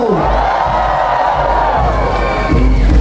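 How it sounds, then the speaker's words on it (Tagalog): A large crowd at the Obando dance festival cheers and shouts loudly for the new Pope Leo XIV, a dense, sustained roar of voices with whoops rising throughout. "Para sa ating bagong Santo Papa, Pope Leo XIV, sumigaw"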